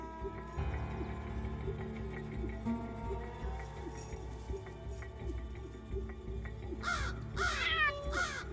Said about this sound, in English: This parent's verbal signals could mean the difference between life and death. Crows have different warning calls,